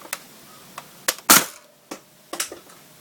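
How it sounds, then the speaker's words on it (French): A Nerf blaster fires a dart with one sharp, loud snap, surrounded by a few softer clicks and taps from handling the toy, close by with no talking. "Le nerf pareil et je tire."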